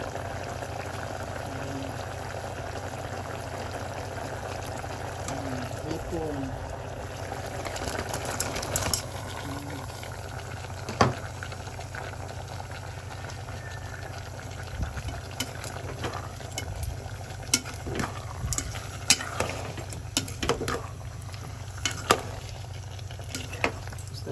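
A pot of pineapple and shrimp broth at a steady boil gives a soft, continuous bubbling hiss, broken by scattered light clicks and taps.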